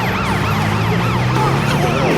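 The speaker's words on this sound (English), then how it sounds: "Super Ambulance has an emergency to take care of." A wailing ambulance siren from the Car City World app game cycles rapidly up and down over a steady engine drone, loud and close, with no talking.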